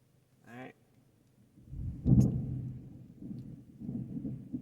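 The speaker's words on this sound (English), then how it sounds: "Big thunder." Big rumble of thunder near a truck camping spot, a low broad roll that swells suddenly, peaks loudly, then lingers and fades with further grumbling, after a brief voiced sound.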